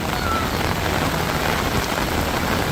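Heavy rain pours steadily across the courtyards of Masjid al-Haram in Mecca on an evening, a dense continuous hiss of drops on surfaces with no break.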